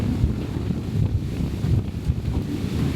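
Strong wind after a typhoon on a beach at Calilayan Cove, a steady, heavy roar buffeting the microphone, with surf blended in, continuous and loud, with no voices.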